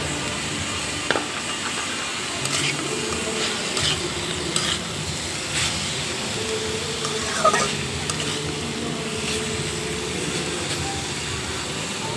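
Fried fish pieces go into a pan of sizzling bitter gourd, a steady crackling fry with occasional stirring scrapes and clinks, close and continuous with no talking.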